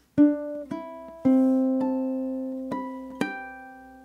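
Plucked ukulele notes from a measure of Scott Joplin's ragtime piece The Entertainer, played solo and close, with six clear bright notes ringing out in an uneven short-long rhythm.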